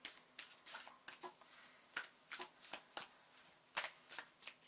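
Moonology oracle cards being shuffled by hand, a steady run of soft riffling and flapping bursts repeating every half second or so, close and fairly quiet with no talking.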